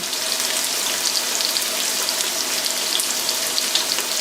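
Chopped onion, thyme and a bay leaf sweating in a pot, a steady soft sizzle with faint crackles and pops throughout and no voices.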